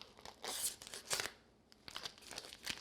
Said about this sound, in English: So you're going to cut it out of the bag.